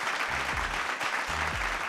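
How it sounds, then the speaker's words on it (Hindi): A studio audience on a comedy talk show claps for a guest, Sheikh. The applause is a dense, steady patter throughout, with brief low voice sounds underneath. "बहुत सारी तालियां शेख साहब के लिए"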